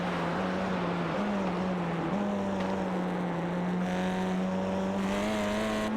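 TCR touring race car at the 24h Nürburgring, heard onboard as a loud steady engine drone with small shifts in pitch, constant and close with no talk.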